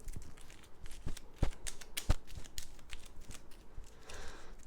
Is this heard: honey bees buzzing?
no